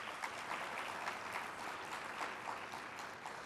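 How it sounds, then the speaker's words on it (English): Round of applause from an association audience for a vice president at a state-of-the-association presentation, steady moderately distant clapping throughout with no talk. "Let's give her a round of applause."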